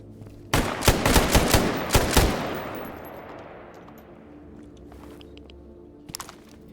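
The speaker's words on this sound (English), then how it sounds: "Shooting at me." Automatic gunfire in the Stalker Gamma shooter game: a loud, rapid burst of shots over about two seconds, then a long ringing decay and a few faint, scattered sounds near the end.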